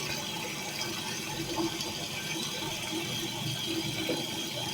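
A toilet cistern filling with water from two inlets at once, a steady rushing, hissing flow that runs continuously and close by with no one speaking.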